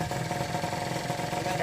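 Kawasaki Ninja R/RR two-stroke motorcycle engine idling steadily with a broken kickstarter spring, a continuous close mechanical drone with no talk.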